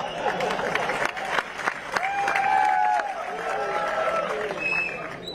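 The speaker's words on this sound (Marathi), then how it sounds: "काय ती गर्दी, काय तो जल्लोष" A large rally crowd in Muktainagar applauds and cheers, a steady wash of clapping and crowd noise with a few sharper claps, tonal calls or whistles rising over it midway.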